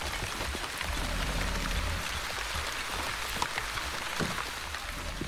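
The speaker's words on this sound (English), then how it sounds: "Okay, rain." Steady rain patters down in a post-apocalyptic city-builder game, a dense continuous hiss of drops on surfaces with a few sharper droplet ticks, fairly soft and unbroken, with no talking.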